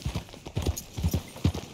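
Horse hooves clip-clop in Red Dead Redemption 2, a close, rhythmic walking gait of several hoofbeats on hard ground, with faint speech in the background.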